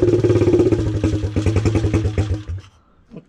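A KXDK motorcycle, left standing for a month, idles loudly with a steady rapid chug and mechanical clatter, then cuts out after about two and a half seconds, leaving a few faint knocks.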